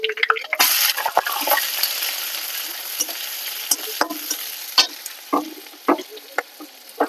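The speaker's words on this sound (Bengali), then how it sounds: "রসুনটা ভালো করে ভেজে নেব লাল করে।" Garlic and onion fry in a pan for chicken polao, with a loud hissing sizzle that surges at the start, then settles under repeated spatula scrapes and stirring knocks.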